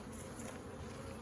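Honey bees buzz steadily around an open hive during an inspection, a dense continuous drone close by with no voices.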